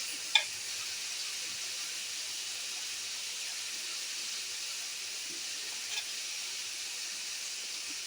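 Onions frying in a pan, a steady faint sizzle and hiss running evenly throughout, with a couple of small clicks, close and uninterrupted by talk.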